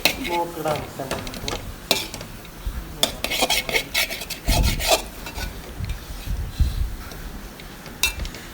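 Moringa leaf thoran stirred and tossed in a pan with a spatula, with clinks and scrapes against the metal over a soft sizzle, close and busy throughout.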